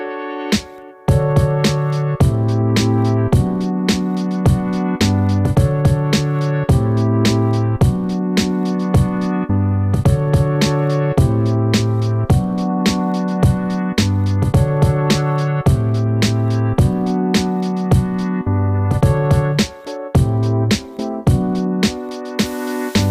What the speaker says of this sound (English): the track that I came up with the chords generated by this plugin sounds like this